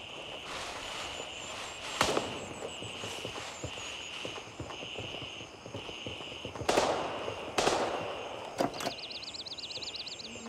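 Mosin rifle gunshots in the video game Gray Zone Warfare: several sharp, loud cracks spaced irregularly over a soft ambience of footsteps and movement.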